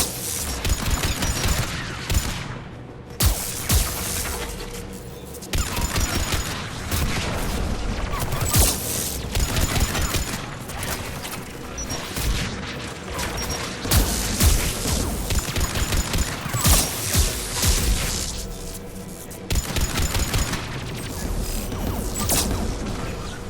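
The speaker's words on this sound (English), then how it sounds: "The Geth anti-aircraft guns are up ahead." Geth anti-aircraft guns in the Mass Effect 3 video game pound away in a dense, continuous barrage of rapid gunfire and heavy booms, loud and unbroken.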